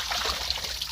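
Water trickling steadily from a motor pump, a close, continuous dribbling splash that lasts a single second.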